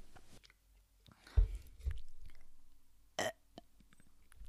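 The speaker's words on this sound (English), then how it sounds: "Wait, I have to burp again." A single close burp breaks out during a podcast recording, surrounded by a few brief mouth and chewing noises in an otherwise quiet room.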